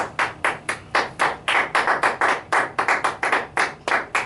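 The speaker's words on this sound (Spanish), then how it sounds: "Denle un aplauso al Señor, por favor." Church congregation clapping in a steady rhythmic beat, about four claps per second, loud and close, unbroken for the whole stretch with no voices over it.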